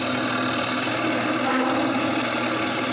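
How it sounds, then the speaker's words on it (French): A 3/4 inch hole is drilled into glued-up wood on a lathe, a dense, loud, steady grinding and rasping of the bit cutting, with no talking. "Je commence par mettre tout le collage sur le tour pour y percer un trou 3/4 de pouce au centre."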